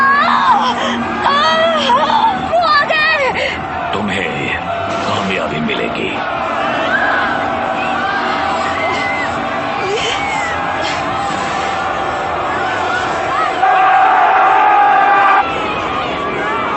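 A crowd shouting and crying out together in a dramatized biblical scene, a loud continuous mass of voices with wailing and yelling throughout.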